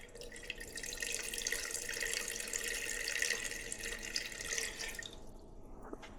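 Water poured in a steady, rushing stream while making a lemon liqueur (half a kilogram of water measured alongside the alcohol). It is close and continuous for about five seconds, then stops abruptly, leaving a brief quiet tail.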